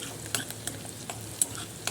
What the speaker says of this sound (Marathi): त्यात आपल्याला वाटेल तर जिरं टाकायचं आहे, थोडीशी मोहरी, पुन्हा छान मिक्स होऊ द्यायचं आहे.